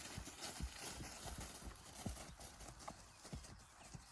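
A horse gallops outdoors on a long lunge line, its hooves drumming in a steady, rapid three-beat rhythm over ground, fairly close and moderately loud with no talk over it.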